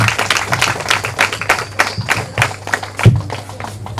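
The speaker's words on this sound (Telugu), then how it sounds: "చప్పట్లు కొట్టి దాన్ని ఆహ్వానం కలుగుతాం" Audience applause at a Sunday school skit, many hands clapping in a dense, steady patter with a few sharper slaps, fairly close and filling the whole stretch, with a low hum underneath.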